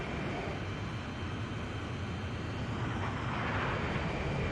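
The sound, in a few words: fighter jet engine in flight, Ace Combat 5 video game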